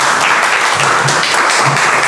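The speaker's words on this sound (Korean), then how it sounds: "여러분 큰 박수로 맞이해 주시기 바랍니다" An audience at a 2025 Korean peace, unification and democratic citizenship education forum claps warmly to welcome a professor presenter; the even, full-room applause continues throughout without speech.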